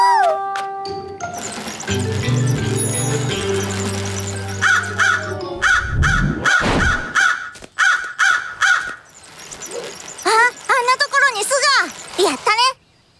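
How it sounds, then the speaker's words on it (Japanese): A cartoon crow in an animated children's adventure show caws in repeated harsh bursts, first in a spaced series and then a quicker flurry, mixed with music, chimes and characters talking. "タルボット船長、カラスを見なかった？"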